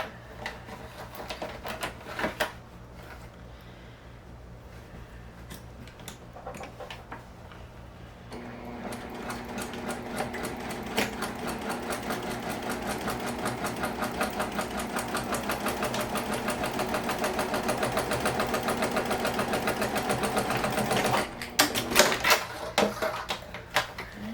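Sewing machine stitching along three sides of a sling bag, first in short bursts of needle clatter, then one long steady run of rapid mechanical stitching, ending with a few brief stops and starts.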